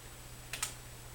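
Two quick computer keyboard key presses land close together, faint and crisp against a quiet background hum.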